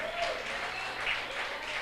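A church congregation breaks into steady applause during a service, a dense, even wash of clapping that fills the room, with a voice speaking over it.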